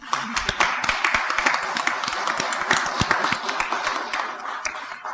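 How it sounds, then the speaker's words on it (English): Audience applause at a city council candidate forum in Bastrop, a sustained, dense burst of clapping from a crowd lasting several seconds with sharp individual claps standing out, heard alone without talk. "So she needs a round of applause."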